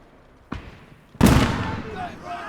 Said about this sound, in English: Did I hear a grenade? Yes, I did.